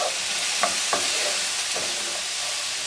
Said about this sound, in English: I'll place it off to the side and then put my hamburger in